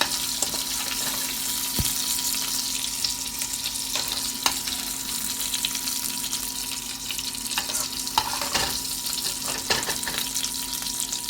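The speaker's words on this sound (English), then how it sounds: "So I will put some more of the shrimp that I have from the 2 pounds to get it pan fried." Shrimp pan-fry in hot oil for a devilled prawn dish, giving a continuous bubbling sizzle with a few clinks and taps of a utensil against the pan.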